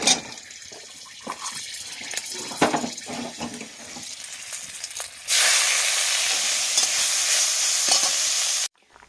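Leafy greens frying in a pan: scraping and stirring with light clatter and uneven sizzling, then a loud, steady, broad hiss of frying that holds for several seconds before stopping suddenly.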